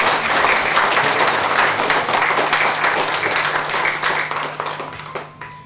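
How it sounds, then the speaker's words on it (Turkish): A hall audience claps for retiring teachers at a ceremony, loud continuous applause that holds steady and then thins and tapers off toward the end. "emekliye ayrılan öğretmenlere de sizden bir alkış diliyorum"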